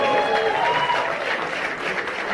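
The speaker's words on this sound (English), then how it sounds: "So, please give a round of applause." A press conference audience at the Times of India Film Awards launch applauds as a director takes the stage, giving a dense, continuous round of clapping with a faint voice or tone briefly audible beneath it.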